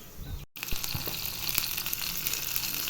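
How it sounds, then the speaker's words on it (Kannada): Steady, dense sizzle of pepper and cumin frying in hot oil for a pongal tempering, with crackles and pops throughout, loud and close, no voices. "ಪೊಂಗಲ್ ಒಗ್ಗರಣೆ ಮಾಡ್ಕೊತಾ ಇದ್ದೀನಿ."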